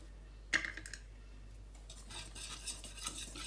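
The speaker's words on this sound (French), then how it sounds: "On mélange bien tout." Sugar and vanilla sugar being stirred into donut batter in a bowl: a sharp utensil clink, then soft, steady scraping and mixing strokes, quiet and close, with no talking.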